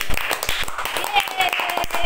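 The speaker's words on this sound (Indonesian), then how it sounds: "Kasih tepuk tangan untuk" A small studio group on a casual talk show claps, a few loose, uneven hand claps mixed with lively chatter and laughter close by.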